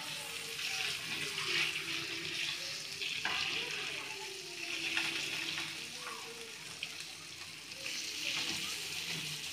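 Fish pieces frying in hot oil in a pan, a steady close crackling sizzle with occasional louder spatters and stirring clinks as the fish is turned.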